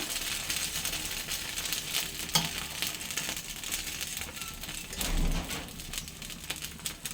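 Thick dosa batter spread on a hot pan gives off a soft, steady sizzle and hiss, quiet and continuous, with a few faint clicks and no talking.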